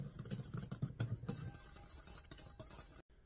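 A whisk stirs dry ingredients with baking soda and kosher salt in a bowl for cookie dough, giving soft, rapid scratchy patters that stop abruptly near the end.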